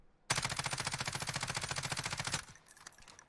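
A Ram 7 assault rifle in the video game Warzone fires one long, rapid automatic burst, loud and close. The shots stop abruptly and leave a short, fading echo.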